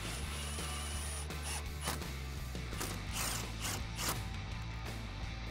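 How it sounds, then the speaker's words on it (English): A socket ratchet clicks steadily while tightening bolts with a T40 Torx socket on a Jeep Wrangler JK mirror relocation bracket, close and fairly quiet over a low background hum. "just tighten these up with that T40 torque socket"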